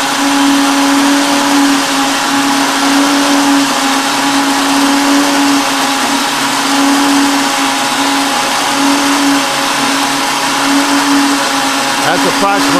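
An elevator trim actuator motor on an aircraft drives the leading edge, giving a loud, steady electric whine with a constant hum that runs unbroken and close by for the whole stretch, with no pauses.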